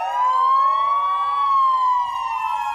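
Fire engine sirens sound in a farewell procession for a fire brigade captain who died on duty. A loud, close, continuous wail rises and falls slightly with layered tones, and there is no speech.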